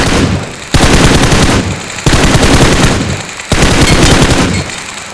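Rapid automatic gunfire from a shooter video game comes in three loud, long bursts separated by brief pauses. The shots are dense and close, with no talking heard.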